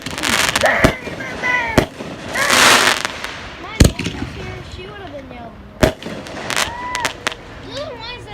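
Fireworks and firecrackers go off outdoors at a home, with several sharp cracking bangs at irregular intervals and crackling bursts between them, while people talk and shout throughout.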